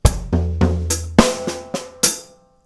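A drum kit plays a short crossover beat with bass drum, snare and cymbal hits, about eight sharp strikes in quick succession, loud and close, ending with a choked crash.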